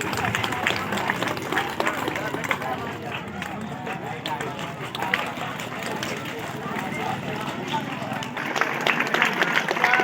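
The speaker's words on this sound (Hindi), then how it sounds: "जोरदार तालियां सर के लिए होनी चाहिए।" A crowd at a school award ceremony claps and applauds continuously with a scattered, rapid patter, loud and close, with voices mixed into the noise.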